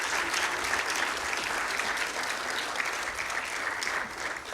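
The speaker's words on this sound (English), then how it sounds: "So I would like a single round of applause for everybody for this one." At the closing session of an event, the whole audience gives one continuous round of applause, thick and even, staying loud for several seconds before easing slightly at the end.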